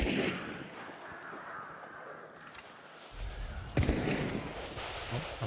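Incendiary rounds from a Sparks rifle in a squad-based shooter game crackle and pop as a dense, fizzing burst, with a louder low thump and crackle swelling near the end.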